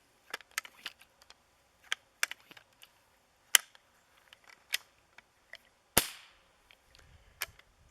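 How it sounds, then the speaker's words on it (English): A Benjamin Sheridan air rifle is pumped and dry fired: a scatter of sharp, close mechanical clicks and snaps, capped by one louder crack of the dry-fire release, with no talking. "So that's what you want to do, and pump it up and dry fire it."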